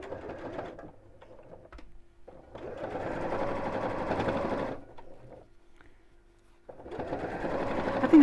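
A sewing machine stitching in several runs, a close, steady whirring buzz that starts and stops with quiet pauses between passes, no speech over it.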